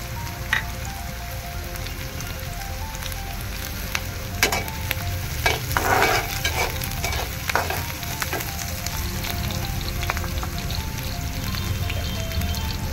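Garlic tossed into a pan with green chillies and stirred as it fries, a steady close sizzle with scraping stir strokes and brief clatter around the middle, no voices.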